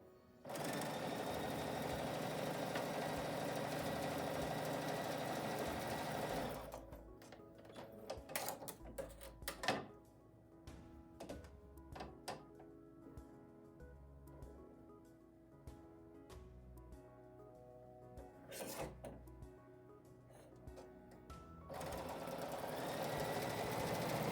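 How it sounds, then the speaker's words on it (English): A sewing machine stitches fabric pieces together, running in a steady buzzing burst at the start, pausing through a stretch of scattered handling clicks and knocks, then running again at the end, close and clear. "I'm going to sew these together and then press them."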